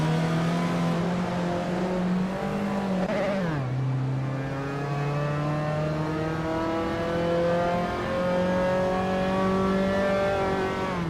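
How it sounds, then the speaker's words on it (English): Race car engines in a racing video game drone steadily throughout, one engine note dipping sharply around three seconds then climbing again through rising gear pitches, loud and continuous with no talk. "GC Productions and Zombush 86 are neck and neck for that spot"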